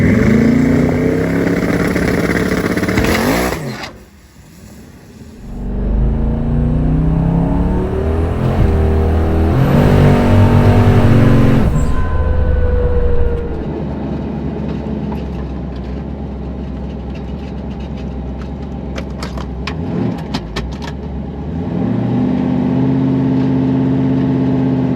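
A twin-turbo Hemi truck launches hard with its tires spinning, a loud engine roar surging after a brief dip, then holding at a steady rumble before building again.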